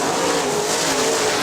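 Sprint cars race at Kokomo Speedway, a loud, steady engine roar filling the whole moment with no pauses, close and continuous.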